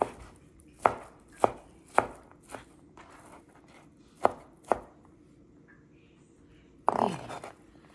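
A knife chops barbecue roast pork on a cutting board in about six sharp, spaced thuds, close and clear, followed by a louder scraping clatter near the end.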